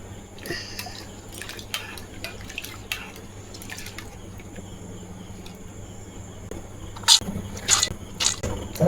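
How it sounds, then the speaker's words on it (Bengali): Soaked lentils are rinsed under water in a kitchen, with soft trickling and dripping over a low steady hum, then louder splashes near the end. "ডালটা ধুয়ে নেই আরেকবার।"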